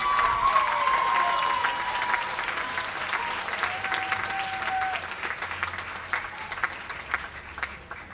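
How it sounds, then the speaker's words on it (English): Sustained applause from a large crowd at a graduate commencement ceremony, steady dense clapping that fills the whole stretch and tapers slightly toward the end. "Let's give a round of applause to the graduate MHA class."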